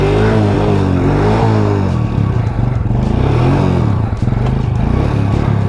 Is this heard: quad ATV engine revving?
yes